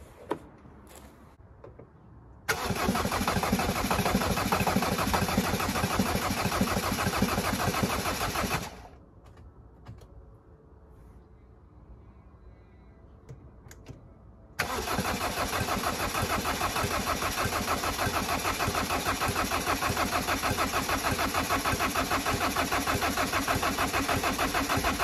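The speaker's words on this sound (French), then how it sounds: "Tentative de démarrage." A car engine is cranked in two long starter bursts, about six and ten seconds each, separated by a quiet pause. The steady whirring drone is close and never catches into a running idle.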